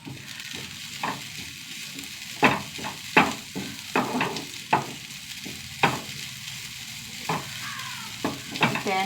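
Grated coconut, ginger, shallots and garlic sizzle in a pan with a steady hiss, while a spoon scrapes and stirs in irregular knocks spread across the mix; no voices.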